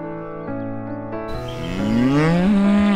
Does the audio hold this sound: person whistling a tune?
no